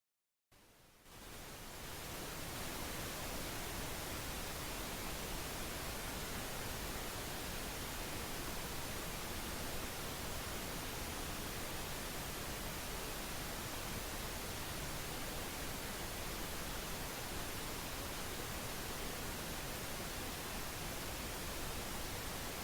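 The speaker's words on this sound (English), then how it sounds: "Let's listen to this pink noise for about 10 seconds." Pink noise for tinnitus sound therapy fades in within the first second, then holds as a steady, even hiss like rushing static that continues unchanged to the end, with no voices over it.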